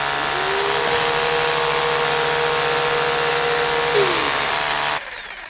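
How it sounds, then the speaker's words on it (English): Loud power drill running continuously at close range, a steady high whine with a drop in pitch near the end before it cuts off. "that drill is one loud drill."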